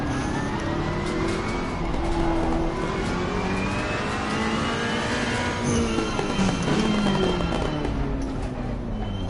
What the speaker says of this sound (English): Just the sound too of the Ferrari is really cool.